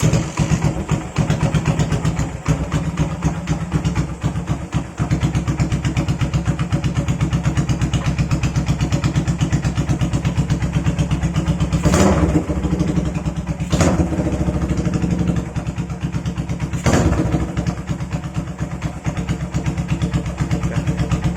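A custom motorcycle engine starts and runs steadily at a loud, close idle for about twenty seconds, with a few brief revs or bursts partway through and no talk over it.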